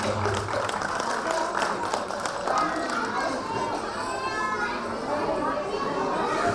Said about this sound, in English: Big applause for Arushi.